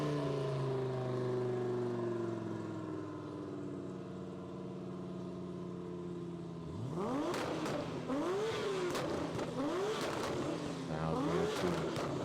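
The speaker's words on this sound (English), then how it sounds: "The R35 GTR's twin turbo V6 or the Lamborghini Huracan's twin turbo V10" Engine sound check of a twin-turbo Lamborghini Huracan V10 and a Nissan R35 GTR twin-turbo V6, around 2350 and 2250 bhp: a steady drone, then from about seven seconds loud, rising revs in repeated swooping pulls.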